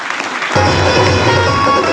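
A live audience at a Hindi motivational networking talk breaks into loud applause about halfway through, a dense, steady wash of clapping that holds near and strong after a quiet start.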